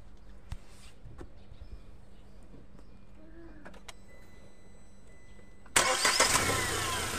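A car engine cranks and fires up after its single drive belt is adjusted. The start comes suddenly and loudly near the end and settles into a steady idle, with faint clicks and handling noises before it.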